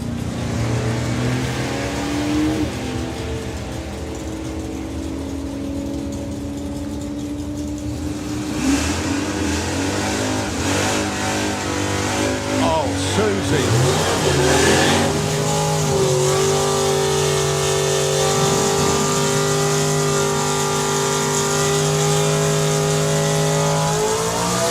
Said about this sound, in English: Typically, it's a big burnout for John Tevner.